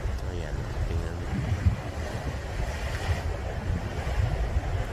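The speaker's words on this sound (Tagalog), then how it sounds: "Lakas ng alon, oh. Ayan, malakas na alon." Heavy surf rolls and crashes in a constant roar, with gusts of wind buffeting the microphone and a few indistinct voices underneath.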